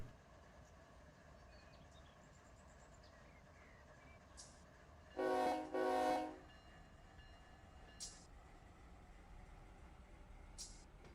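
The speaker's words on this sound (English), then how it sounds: "Now I'm going to move these locos here out of the way." Simulated diesel locomotives in Run 8 Train Simulator, moved while working a CalPortland cement job: a low engine rumble runs throughout, broken by two loud, close horn blasts midway and a few short clanks afterward.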